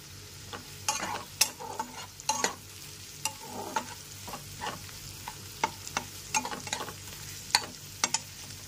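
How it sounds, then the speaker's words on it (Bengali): Finely chopped onion fries in a pan over a medium flame under a continuous soft sizzle, with frequent sharp scrapes and clinks from stirring spread throughout. "কুচি করে কেটে রাখা পেঁয়াজটা মিডিয়াম ফ্লেমে 3 থেকে 4 মিনিট ধরে ভালো করে ভেজে নেব।"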